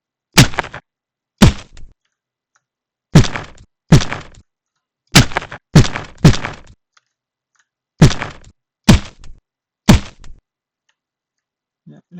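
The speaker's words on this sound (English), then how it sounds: "if we shoot the bullet again, it will fracture them into the second level" Bullet impacts fracturing a mesh into pieces in Unreal Engine: about ten sharp, dry cracks, each standing alone at irregular intervals against silence.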